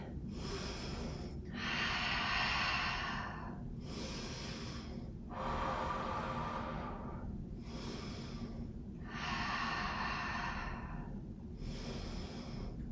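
Slow, deep breaths during a balance yoga pose, close and alone, with long airy inhales and exhales following each other in an even rhythm about every three to four seconds.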